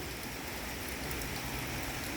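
Steady rain falls at a rabbit farm in Chanthaburi, a dense, even hiss of drops on surfaces, close and continuous.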